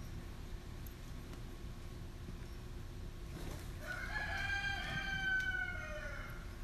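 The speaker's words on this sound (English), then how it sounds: "We've got a little rooster that hadn't found his voice yet." A young rooster crows from a short distance, a thin, wavering, unfinished call in the second half over a quiet outdoor background at a camp cookout.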